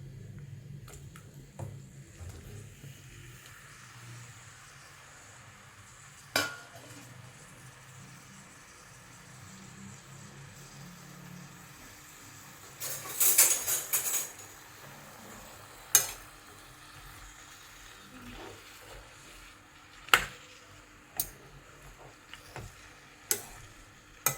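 Tomatoes frying in sesame oil in a pan on a stove for a tomato pickle, a faint, steady low sizzle with occasional sharp clicks of stirring and utensil taps.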